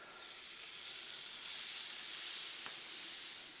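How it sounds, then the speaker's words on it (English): Hamburger meat patties, loosely packed 4 to 5 ounce balls, sear on a Blackstone griddle with a steady, even hiss that holds at a moderate level throughout, plus one faint click near the end. "while those are searing on one side for just a quick second"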